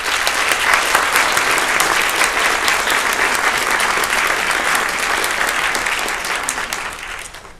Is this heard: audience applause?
yes